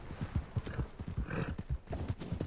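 A horse's hooves clip-clop in a steady, close rhythm of sharp knocks, with a brief whinny-like sound partway through.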